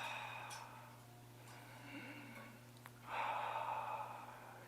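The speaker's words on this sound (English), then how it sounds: "If we concentrate on the belly and we breathe" Slow, deep belly breathing close to the microphone: a long soft inhale followed by a fuller, louder exhale over a steady low hum, with no talking.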